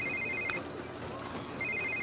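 Telephone ringing in The Sims 3: repeated electronic bell trills, one burst at the start and another toward the end, fairly quiet over soft game background.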